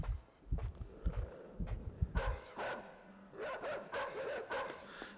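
Dog barking in the side-scrolling game INSIDE, a burst of several low, rough barks and yips up close, followed by scuffling and movement sounds.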